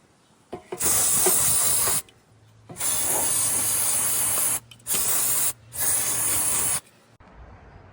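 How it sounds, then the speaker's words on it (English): Three long bursts of brake cleaner aerosol spray hiss on a Polaris Ranger 1000 XP, loud and close, separated by short pauses, with a faint low hum between them. "And then spray this off with some brake clean."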